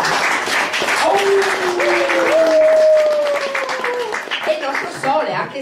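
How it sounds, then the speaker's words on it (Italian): An audience applauding performers at an evening cultural event, sustained claps under a voice that speaks and sings in sliding tones over them. "Un applauso per"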